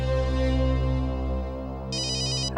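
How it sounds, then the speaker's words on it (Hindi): Phone ringtone playing over a steady, loud tonal background, then a bright electronic ring burst near the end in a Hindi CID crime drama scene. "वाइफ का फोन।"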